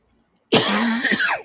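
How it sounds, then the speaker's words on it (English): A single short, rough cough from a man bursts out of silence, followed by a brief throat-clearing rasp, close and loud. "man, I'm coughing."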